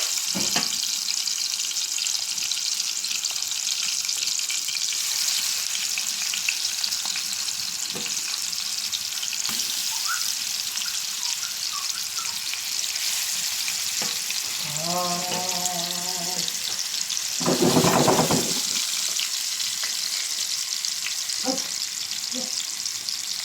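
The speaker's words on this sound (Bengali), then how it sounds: "আমি এখন এটা ফ্রাই করে নেব। তো আমি একটা ফ্রাই প্যানে তেল গরম করছিলাম" Hilsa fish frying in hot oil in a frying pan, a steady close sizzle running throughout with brief clatters and a short louder burst near the end, no talking.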